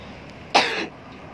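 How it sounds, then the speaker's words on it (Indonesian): A single short, sharp cough from an unwell woman, close and fairly loud against a quiet room, with nothing else around it. "batuk-batuk banget."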